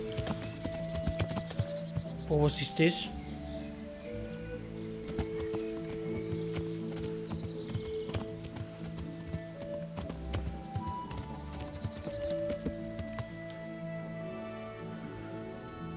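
A horse's hooves clip-clop in Kingdom Come: Deliverance, the video game, as a steady, moderately loud plodding rhythm over soft ambient game music. Someone speaks briefly near the start.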